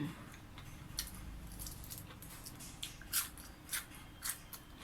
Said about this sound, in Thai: เสียงเคี้ยวไม่ต้องใช้ไม้นะ